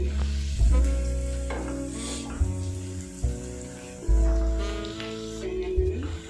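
Whole spices, cardamom and bay leaf, hitting a hot pan over high flame and stirred, with bursts of sizzle and scraping amid humming tonal background sounds, fairly close.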